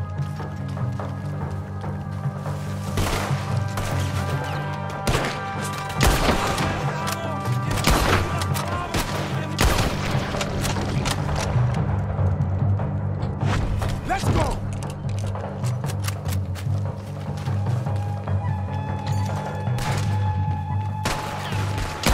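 Cannon blasts and gunfire in the video game Red Dead Redemption 2, repeated sharp loud shots and booms over a constant rumbling background, some in rapid bursts.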